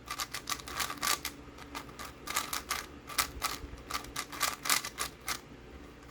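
A Diansheng FTO twisty puzzle, loosened up, is turned rapidly, giving a quick run of crisp plastic clicks and clacks in an uneven rhythm, close and fairly quiet with no talk.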